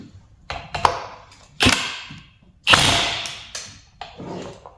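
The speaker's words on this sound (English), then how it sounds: "use something like what I'm using here, which is an impact" Impact driver working on a fastener of a Stihl 500i chainsaw during a bar oiler fix, giving a few short, sharp mechanical bursts separated by pauses, close and fairly loud with small clicks and handling sounds between.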